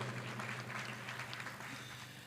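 A concert audience applauds a singer, clapping steadily throughout, a dense wash of applause heard at a distance and fairly quiet.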